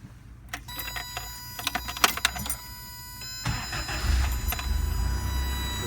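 A 1986 Toyota 4Runner Turbo SR5 with a 22R engine clicks and rattles briefly, then fires up quickly into a loud, rough, steady idle.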